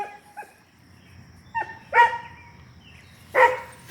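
Piggy, a guard dog, gives several sharp barks and yips, spaced irregularly, close and fairly loud over a faint background hiss, with no voices.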